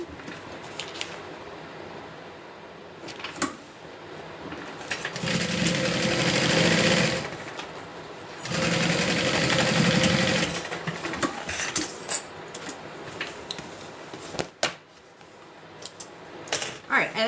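A sewing machine stitches down crossbody strap connectors on the sides of a Becca bag, with two sustained runs of steady buzzing whir between lighter clicks, rattles and handling noises nearby.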